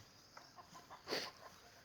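Young breeding hens and roosters in a pen on a Thai chicken farm, clucking softly in a loose string of short calls, with one louder squawk near the middle, heard close against a quiet background.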